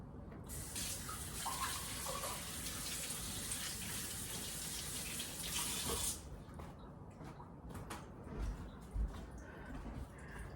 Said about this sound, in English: I'm gonna go rinse that off.